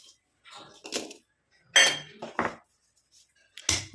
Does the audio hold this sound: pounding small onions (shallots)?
yes